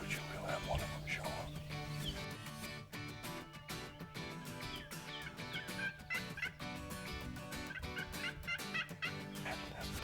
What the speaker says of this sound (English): we've got 2 or 3 toms all the way around us, cutting loose everywhere